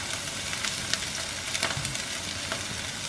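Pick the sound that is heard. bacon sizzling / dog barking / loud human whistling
bacon sizzling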